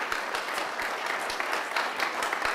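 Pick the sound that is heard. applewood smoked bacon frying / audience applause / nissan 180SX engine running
audience applause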